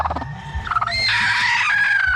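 Chickens cluck and chirp close by, with one bird breaking into a loud, drawn-out crowing call partway through.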